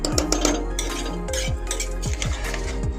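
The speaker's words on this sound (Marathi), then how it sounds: "चांगलं मिक्स करून घेऊया" A spoon clinks and scrapes repeatedly against a cooking pot while mixed lentils and rice are stirred into khichdi, with a steady rhythmic clatter close up over a low background hum.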